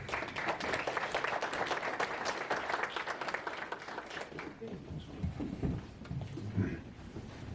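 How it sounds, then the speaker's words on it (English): An audience applauds warmly for several seconds, the clapping fading out as a voice begins speaking at the end. "please join me in welcoming Mariah with a round of applause"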